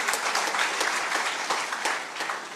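A rally crowd in Maharashtra claps steadily and densely, a loud, continuous patter of many hands with a few sharper individual claps standing out, and no talking over it.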